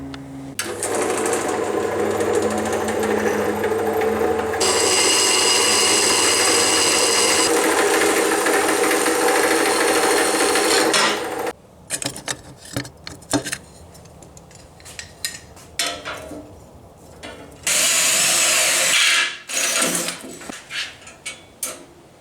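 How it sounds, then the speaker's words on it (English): A bandsaw cuts through steel angle iron with a loud, steady grinding whine for about eleven seconds, followed by clanks and handling noises and a second short, loud burst of cutting. "let's get a piece of angle iron and put it in the bandsaw"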